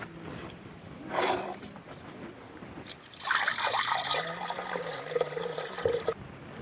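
Hot water is poured over leftover ragi kali in a home kitchen, a gentle splash followed by a louder, sustained stream of liquid that runs for a few seconds before stopping.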